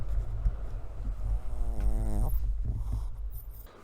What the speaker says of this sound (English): she is snoring big time over here